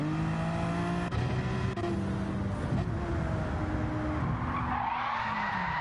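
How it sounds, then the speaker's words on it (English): Race car skidding and spinning out in Gran Turismo 7, a continuous loud tire screech with engine drone that sweeps in pitch across the whole stretch, near and unbroken, with no talking. "And this guy spun again."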